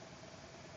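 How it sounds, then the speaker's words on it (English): Motorcycle traffic on a busy street outside an open window makes a faint, steady engine rumble at a distance, with no talking. "we're just gonna have to live with the motorcycles for a bit longer"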